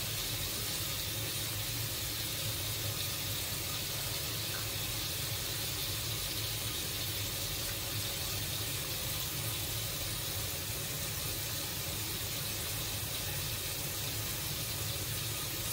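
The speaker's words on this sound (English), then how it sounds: "I'm pretty much about to just wash my face" A bathroom sink tap runs steadily while someone washes their face, a continuous, even rush of water that stays fairly close and moderately quiet throughout, with no talking.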